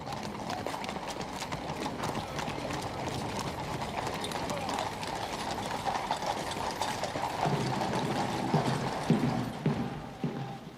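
A horse-drawn carriage on a royal state occasion gives a steady clip-clop of hooves with rattling wheels and harness, continuous and moderately near, beneath a narrator speaking throughout.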